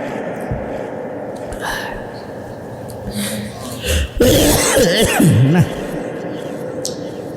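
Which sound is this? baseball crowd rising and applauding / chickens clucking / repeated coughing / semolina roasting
repeated coughing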